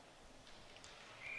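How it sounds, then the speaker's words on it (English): A referee's whistle sounds at a men's college ice hockey game, a short, sharp tone arriving at the end over faint rink ambience. "And we will get another whistle."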